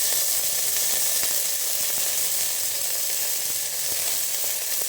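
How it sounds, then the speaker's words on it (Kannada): Mustard seeds and curry leaves sizzle in hot oil for a bitter gourd stir-fry, a steady bright crackle with scattered sharp pops, close and continuous throughout. "ಇವಾಗ ಸ್ವಲ್ಪ ಸಾಸಿವೆ ಹಾಕತ್ತೀನಿ. ಅದಕ್ಕೆ ಇವಾಗ ಸ್ವಲ್ಪ ಕರಿಬೇವು ಸೊಪ್ಪು ಹಾಕತ್ತೀನಿ"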